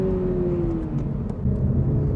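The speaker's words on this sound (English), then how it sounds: "nice throttle blip response" Front-engined sports car on a track giving a sharp throttle blip, a loud close engine rumble that swells briefly over a steady droning tone, with no talk.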